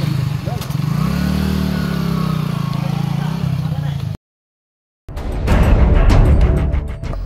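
A motorcycle leaving a hospital, its engine running steadily and nearby for several seconds; after a short silent gap a louder stretch of engine noise and clatter follows, with voices mixed in.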